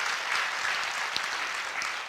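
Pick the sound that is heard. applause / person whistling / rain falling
applause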